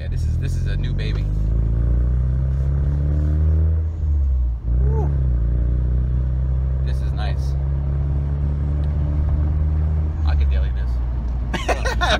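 A Ford Mustang S550 engine rumbles continuously while driving, with a deep steady drone that swells and eases as the throttle is feathered, under people talking in the cabin.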